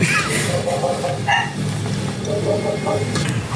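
A dog barks and yips in a movie soundtrack, with short repeated barks mixed into loud, dense background sound and voices talking.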